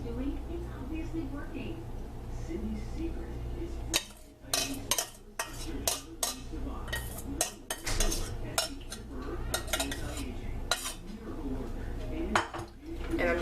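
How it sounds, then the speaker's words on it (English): Chicken being mixed and coated in a pan over low heat, with repeated scraping clinks of a utensil against metal and a soft background hum, under a person talking. "And I'm just gonna mix it like so, where everything's kind of getting coated and so forth."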